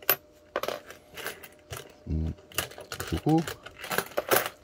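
Foreign coins, including euros, US dimes and yen, clink and jingle as they are sorted by hand, with metallic taps and short rattles scattered among a Korean speaker's talk.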